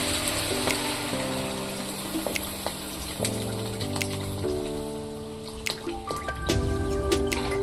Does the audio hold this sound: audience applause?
no